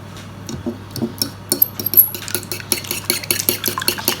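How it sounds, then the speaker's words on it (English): Eggs, a drop of milk, salt and pepper being whisked in a bowl, giving a steady run of quick, close scraping clicks and taps against the bowl with no talk. "So I've got eggs, drop of milk, salt and pepper in my bowl,"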